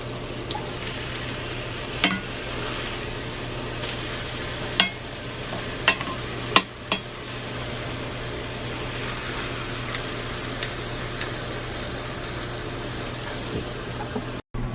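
Food frying in a cast iron pan, a steady low sizzle throughout with a few sharp clinks and knocks of flipping, no talk.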